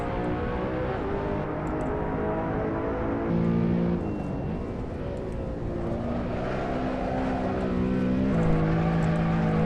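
A BMW M3 engine in the racing game Assetto Corsa, a steady, continuous drone that rises and falls in pitch as the car accelerates and slows, loud and alone with no voices.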